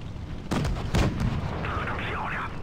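Tank cannon fire in World of Tanks Blitz, a T20 among the targets: two heavy booming shots close together, then rumbling battle noise and faint game effects for the rest.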